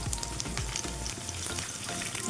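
Prawns for chemmeen roast frying in a pan, a close, steady sizzle with scattered crackles and low clatter from turning or stirring, heard alone.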